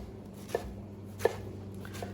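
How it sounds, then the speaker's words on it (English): A knife roughly chops fresh herbs for chimichurri on a board, giving a few sparse, crisp cuts close by over a quiet background. "I'm gonna chop them up a little bit here with my knife so that they'll run through the blender a little bit easier"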